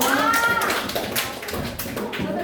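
Scattered hand claps and taps ring out in a high school classroom during a group activity, several sharp strikes spread unevenly through the moment, with young voices murmuring underneath.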